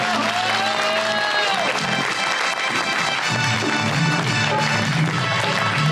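A studio audience on a talk show applauds steadily to welcome an actor and model as she walks on, a dense wash of clapping throughout, with a host's voice and music faintly mixed in.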